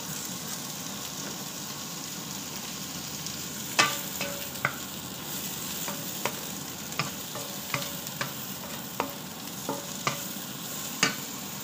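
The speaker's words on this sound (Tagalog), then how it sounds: "Pa-fry natin ng slight yung hotdog" Hotdogs frying in a pan of oil with garlic and onion, a steady close sizzle broken by scattered sharp pops and crackles, no voices.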